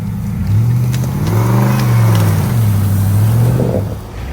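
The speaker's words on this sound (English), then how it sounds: "All right, got the backhoe going." A backhoe engine revs close and loud during a truck recovery, its low rumble rising and falling in pitch over a few seconds, with no voices.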